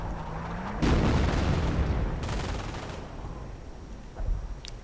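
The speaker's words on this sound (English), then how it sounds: "And now the howitzers firing instead of, you know, supporting in the assault." Howitzers firing in a real-time strategy war game, a heavy booming blast with a rumbling tail, a second distant report, and a smaller thump at the end over continuous battle ambience.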